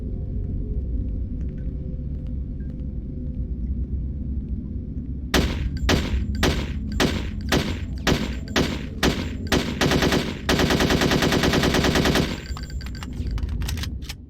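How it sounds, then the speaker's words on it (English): Weapons fire in Hitman: Codename 47 during a training range session: after several quiet seconds of low ambient hum, a series of sharp single gunshots rings out, then a sustained burst of rapid automatic fire, loud and close. "It's always good to pick up these guns and practice them, see how they function in regards to recoil and bullet range."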